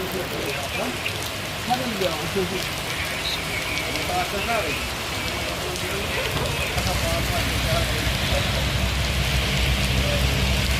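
Rain falling in Jammu and Kashmir, a steady dense patter on surfaces throughout, with a voice talking faintly beneath it.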